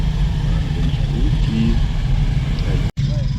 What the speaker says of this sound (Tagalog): Ang daming motor, grabe.